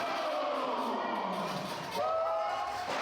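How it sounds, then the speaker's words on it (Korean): A large crowd roars and cheers at a cholita wrestling match in Bolivia, a sustained wash of shouting voices with individual whoops and a brief surge partway through. "이에 호응하는 관중의 함성."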